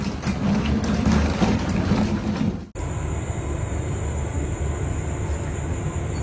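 A passenger train from Dhaka arrives at Cox's Bazar, a loud, continuous rumble of rolling wagons with a brief cut partway through, then a steady roar and a high whine.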